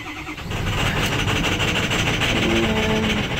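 A 2007 Ford F-350 Crew with a 6.0L diesel engine cranks and fires up, then settles into a loud, steady, close idle clatter.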